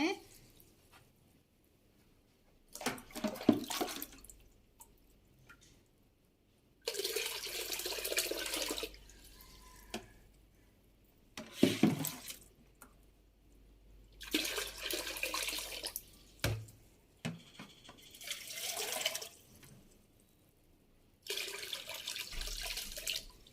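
Hot water pours into a container in several separate bursts, splashing and gurgling, with quiet pauses between pours and a faint low hum.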